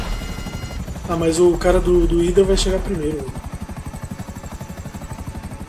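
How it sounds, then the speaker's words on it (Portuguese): An attack Buzzard helicopter flies in GTA V Online, its rotor thumping in a fast, steady rhythm throughout while someone talks over it. "Apesar do Buzzard ser bem rápido, o dos helicópteros, esse preto que eu tô usando, que é o Buzzard de ataque, ele é o mais rápido"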